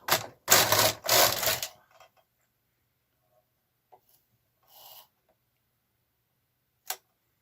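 A Kh 230 knitting machine carriage makes a few loud, rapid mechanical clatters in the first two seconds, followed by scattered faint clicks and a sharp clack near the end.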